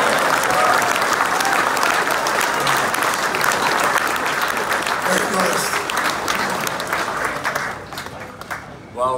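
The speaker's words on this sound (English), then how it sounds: "so a round of applause, come on." Dense crowd applause at a Glenelg football club award ceremony, loud and sustained for about eight seconds under a faint voice, then fading as the clapping thins out.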